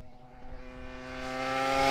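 A classic Yamaha RD350LC race bike approaching on the road, its buzzing engine note climbing steadily in pitch and growing louder as it nears over two seconds.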